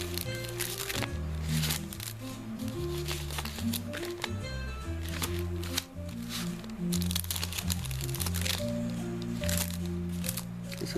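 Paper envelopes rustle and crinkle as they are handled, with soft irregular crackles and shuffles close up over faint background music.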